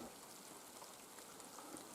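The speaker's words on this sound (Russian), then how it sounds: "О, поливает." Heavy autumn rain pours down outdoors, a faint, steady, even hiss of drops on surfaces with no other sounds.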